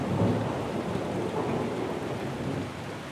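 Steady, loud rain falls through a thunderstorm near the Matterhorn, with rolling thunder rumbling low beneath the downpour across the whole stretch; no voices.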